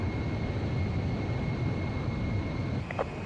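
Fighter jet engines in Ace Combat Zero during the final mission: a steady, dense, broadband roar that holds level throughout, with a brief higher whine near the end.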